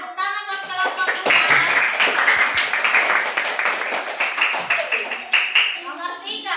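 Schoolchildren in a third-grade classroom clap together for a classmate group, a busy patter of small hands with children's voices chattering over it throughout.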